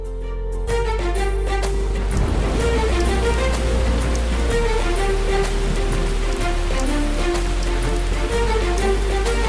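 Steady rain patters on a surface, a dense continuous hiss heard alongside sustained tonal music and a low hum.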